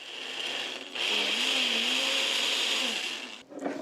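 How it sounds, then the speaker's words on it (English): A blender whirs loudly at close range, its motor pitch wavering as it purees canned beans with a little water into a thick mixture, then cuts out at the end. "So these are the canned beans in a food processor, in a blender"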